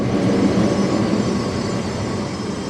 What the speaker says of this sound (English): Those old trams are just beautiful